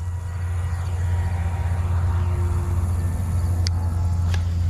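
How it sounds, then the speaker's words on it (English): Steady highway traffic roar near a pond, a continuous low rumble of passing vehicles with a faint swish near the end. "I'm sorry for the highway noise."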